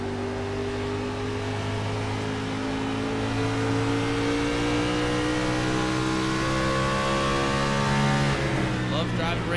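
Race car engines drone steadily at Phoenix Raceway, a loud, sustained, high-revving whine with rising pitch under ongoing race commentary.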